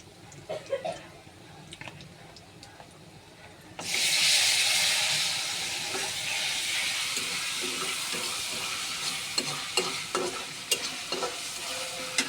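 Mutton curry with chana dal is stirred after ginger garlic paste goes into the pot. Quiet scraping gives way to a sudden loud sizzle with steady hiss and stirring clinks, while a voice talks in the background.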